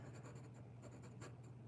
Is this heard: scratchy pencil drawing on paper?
yes